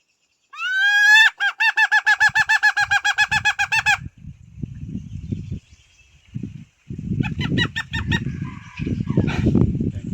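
A person imitates a hen's call to lure wild red junglefowl, giving a rapid, loud string of clucking notes, then quieter rustling and thumps, followed by a second burst of calls.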